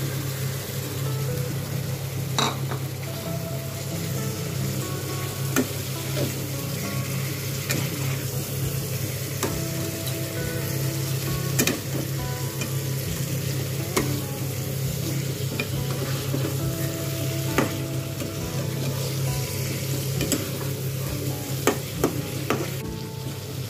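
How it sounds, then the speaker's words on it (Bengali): Fried sardine (satin fish) pieces are tossed into a well-cooked spice paste in a kadai for a spicy fish curry. A continuous loud sizzle runs under a low steady hum, broken by repeated sharp knocks and scrapes of a spatula against the pan. "এবারে আমি ভেজে রাখা মাছগুলো দিয়ে দেব।"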